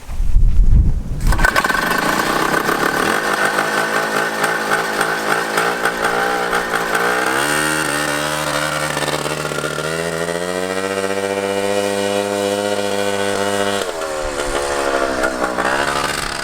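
A two-stroke go kart engine from a 1979 FL250 Odyssey buzzes loudly during carburetor tuning, starting with a sharp burst, then idling and revving with rising and falling pitch, close and alone.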